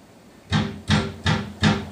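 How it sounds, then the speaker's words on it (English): An apartment door, recorded as a sound for an MPC beat, gives four evenly spaced, fairly loud thuds in a steady rhythm. "The door."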